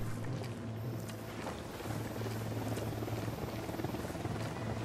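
Helicopter in the video game Ghost Recon Wildlands, a steady low rotor thrum that sits faintly behind heavy rain ambience, with no clear talk over it.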